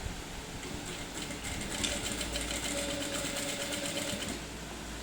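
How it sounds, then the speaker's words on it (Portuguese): A sewing machine stitching all around a bag lining, a steady rapid mechanical whirring and ticking that holds evenly for several seconds before easing off slightly, fairly quiet and with no talking. "E vou passar um ponto toda a volta."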